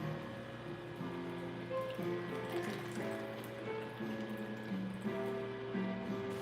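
A sponge is rinsed off under running water, a steady, moderately loud flow and trickle lasting throughout over a constant tonal drone in the background.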